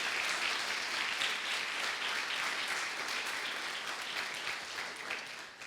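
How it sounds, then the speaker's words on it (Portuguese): A church congregation applauds with dense, sustained clapping that fills the whole stretch and tapers only slightly toward the end. "Você consegue glorificar Ele por isso, aplaudindo o nome de Jesus?"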